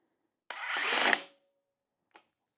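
A DeWALT quiet impact driver runs in speed 2 in one smooth, steady burst of just under a second, followed by a faint click.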